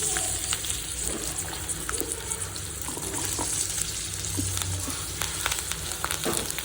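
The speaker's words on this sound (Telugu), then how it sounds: "ఆయిల్ కొంచెం హీట్ అయిన తర్వాత మనం ఆ మెత్తలను ఫ్రై చేసుకుందాం" Gongura methallu fry in hot oil, a continuous loud crackling sizzle up close with scattered sharp pops and a low background rumble, no voices.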